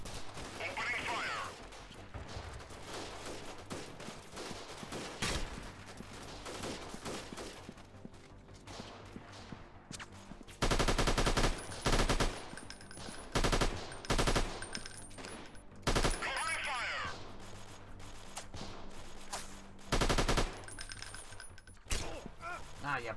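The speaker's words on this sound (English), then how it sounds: "Attack formation. Opening fire." Gunfire in the video game Freeman: Guerrilla Warfare comes in repeated bursts of automatic fire and single shots, loud and close, with louder volleys in the second half and a voice talking in places.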